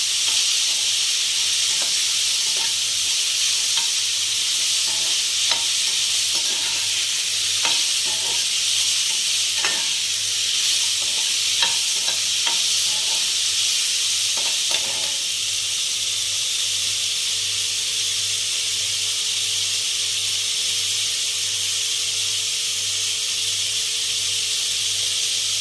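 Onion and tomato sautéing in a pan, a steady broadband sizzle running the whole time with scattered light clicks of stirring in the first half, close and fairly loud, no voices.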